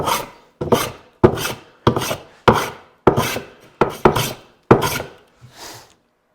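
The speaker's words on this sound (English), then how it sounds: "By planing diagonal, I'm starting to remove some of those cross grain planing marks" A hand plane shaves diagonally across a wooden cutting board, about nine crisp rasping strokes in a steady rhythm, each a short bright swish that fades quickly, close and loud with no voices.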